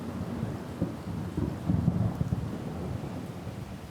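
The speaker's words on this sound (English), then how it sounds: "when you bring in the thunder in addition to the rain" Thunder rumbles under steady rain in the sound design of a music track, a continuous low roll with swelling peaks, blended into one dense storm atmosphere.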